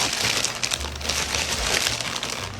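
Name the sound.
opening a crinkly package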